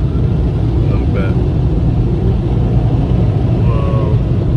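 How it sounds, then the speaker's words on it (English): Automatic car wash air dryers blow as a loud, steady roar with the listener sitting inside the car. Brief voices come through faintly under the noise. "Oh, here it comes. The air dryer."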